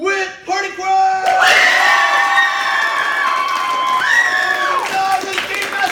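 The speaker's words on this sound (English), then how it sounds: "Clap loud for both teams and clap louder and harder for the team that you want to win 5 points." An audience at a graduation improv show claps and cheers loudly for a team, a dense roar of voices with rising whoops and shouts sustained across the whole stretch.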